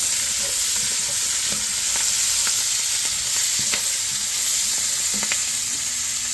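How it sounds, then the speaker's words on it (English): Chopped cabbage and crisp bacon fry in a pan with a steady sizzle, while a spoon or spatula stirs and scrapes through it in scattered clicks and knocks, close and with no one talking. "I'm adding in chopped up cabbage. The bacon is a lot crispier."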